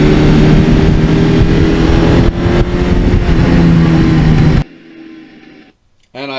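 A 1982 Suzuki GS1100E motorcycle engine runs loud and close with a steady throaty drone for several seconds, then drops off abruptly to a quieter background before a short burst returns.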